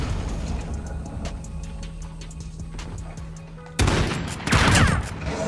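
Marksman rifle fire in Call of Duty: Modern Warfare crackles as a run of sharp, evenly spaced shots over a steady hum, followed by louder, denser bursts of gunfire and impacts near the end.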